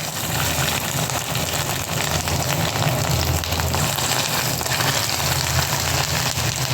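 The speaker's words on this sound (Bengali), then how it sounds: "দেখো আজকে মাছের ডিমের বড়া বানাচ্ছি।" Fish egg fritters made with onion, chilli and gram flour batter frying in oil in a wok, giving a steady, dense sizzling hiss that stays constant and fairly loud throughout, with no talking.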